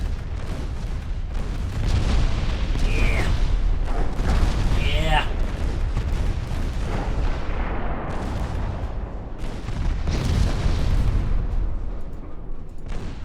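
Naval guns and shell explosions in the Ultimate Admiral Dreadnoughts warship battle game, a dense, continuous rumble of booming salvos and blasts rolling on without pause, loud and close.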